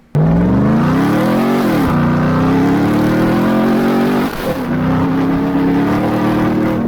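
A loud supercharged pickup truck engine, a Ram TRX or Ford F-150 Raptor R, revs hard with a rising supercharger whine, dipping briefly twice before climbing again, steady and close throughout.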